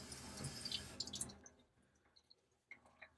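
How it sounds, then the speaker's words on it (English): Cool tap water runs at a sink while Oboz shoes are rinsed, a close, hissing flow for about a second before it stops, leaving faint drips and light splashes. "So I'm just using cool water here."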